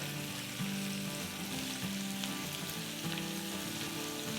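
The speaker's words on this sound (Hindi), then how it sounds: "मीट से जो हमारा ऑयल रिलीज़ हुआ है ना, उसी में हमको अपनी ये वेजिस को थोड़ा सा सॉटे कर लेना है।" Vegetables sautéing in oil rendered from kebab meat give a loud, continuous close sizzle with a dense crackle, steady throughout over faint background music.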